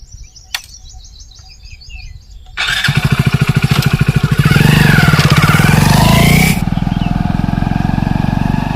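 A motorcycle starts and pulls away on a road, its engine rising to a steady loud drone that then settles into a lower steady running note, with faint bird chirps heard before the engine starts.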